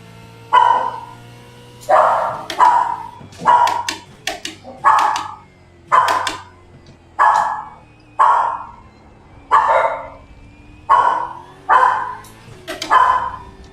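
Dogs bark again and again in steady, evenly spaced bursts, about eleven loud barks in a row, close by, over a low background hum with no talking.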